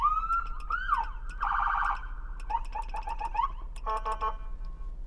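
An electronic emergency siren on a Ford Transit 350 search and rescue vehicle cycles through several tones, a wail, a steady yelp and rapid warbling bursts, loud and close with no talking.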